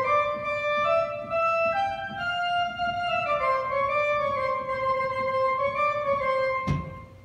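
A church organ plays the Washington Post march as a postlude, a bright sustained melody line stepping through notes over accompaniment at moderate volume, ending with a short bump near the close.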